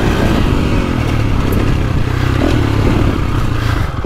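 A 450cc motocross bike, either a 2025 Honda CRF450R or a 2024.5 KTM 450SXF Factory Edition, pounds over the track rollers, with a loud, continuous engine drone and clattering suspension and chassis noise close to the microphone.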